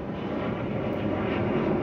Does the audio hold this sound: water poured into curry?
no